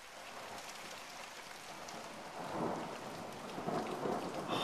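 A heavy rainstorm with thunder in Los Angeles: dense, steady rain pours on surfaces while low thunder rumbles and swells midway, all fairly distant and without voices.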